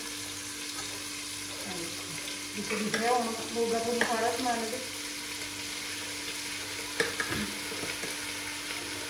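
Capsicum, onion and tomato stir-fried together in a pan, giving a steady low sizzle with scraping stir strokes in the middle stretch, while a voice talks intermittently over the cooking.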